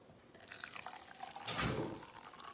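Hot chocolate pours and trickles into a cup, soft and close, with a brief fuller gush midway before settling to a quieter dribble.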